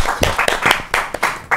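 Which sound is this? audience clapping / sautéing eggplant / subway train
audience clapping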